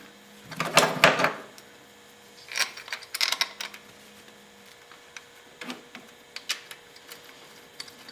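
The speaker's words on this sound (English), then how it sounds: "Put them back in the original holes and tighten those on down" Throttle body bolts being tightened down by hand tool: a few quiet ratcheting clicks come in short bursts, separated by pauses over a low background hum.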